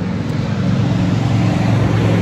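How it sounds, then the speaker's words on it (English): Loud car passing on a road during the morning commute, a steady low engine and tyre rumble that fills the whole moment with no other sounds. "Loud car is going by because it is a morning commute"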